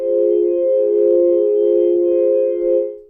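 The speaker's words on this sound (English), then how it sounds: "That's the sound of teleporting." A Roland JD-800 synth patch holds one steady, bright tone that shimmers gently, like the teleport sound from Ocarina of Time, loud and close, lasting about three seconds before fading slightly.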